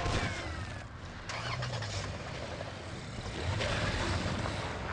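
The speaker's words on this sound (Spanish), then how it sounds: "¡Coño, un coche!" Car engine in the zombie shooter game Dead Trigger 2, a loud continuous rumble and roar within a dense, noisy game mix.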